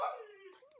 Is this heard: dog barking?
yes